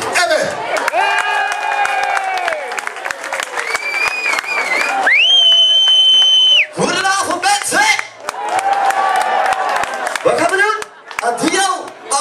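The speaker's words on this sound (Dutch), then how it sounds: "ik wil een heel groot en heel hartelijk applaus voor niemand minder dan Tim" Crowd applauding and cheering for guest artist Tim at a live Dutch performance, with whoops and shouts over the clapping, loud and sustained, with high cheering wails rising throughout and brief lulls near the end.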